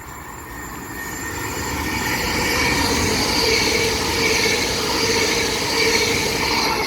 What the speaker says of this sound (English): Oh, but first we've got an Azuma 5 coacher.